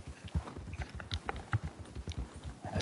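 Horse hooves clip-clop in the video game Red Dead Redemption 2 as a skittish new horse steps about, making a steady run of soft, irregular thuds and knocks at moderate volume over a faint ambient background.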